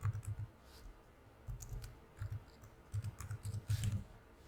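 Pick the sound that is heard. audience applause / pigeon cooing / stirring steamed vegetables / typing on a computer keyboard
typing on a computer keyboard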